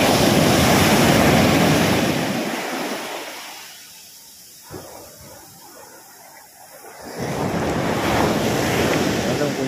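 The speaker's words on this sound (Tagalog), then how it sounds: "May alon pa eh." Loud surf roars and washes in, fades to a lull, then a second wave surges back, with wind buffeting the microphone.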